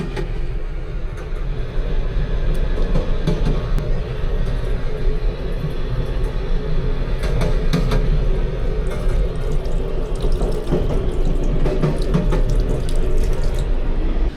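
Cold water runs continuously from a sink tap on a vintage train, a steady close rush with no pauses and no voices.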